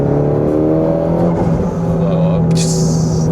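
Steady Mitsubishi Lancer Evolution X FQ440-MR engine idling with a low hum, then a brief turbo fluttering chatter and a hissing burst near the end; a voice talks over it.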